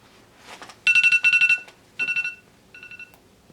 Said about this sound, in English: Oh, I knew that was gonna happen. My alarm would go off.